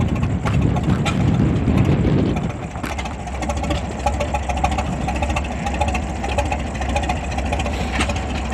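Antique engine running slightly rich at an engine show, a steady close idling chug that stays loud throughout with a heavier low rumble in the first couple of seconds.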